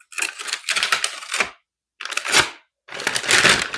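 An X-Acto knife slicing through the tape on a bag in three short scraping bursts with brief pauses between them, close and crisp.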